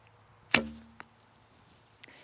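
Arrow loosed from a Stickman Stickbows Sentinel longbow at 20 feet: a sharp, loud snap of the string with a brief ringing decay, then two faint ticks afterward, with no voices.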